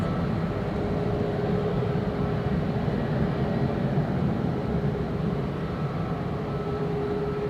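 A WestJet airliner sits at Edinburgh airport, its engines giving a steady low drone with a faint constant whine, unchanging and distant-sounding throughout.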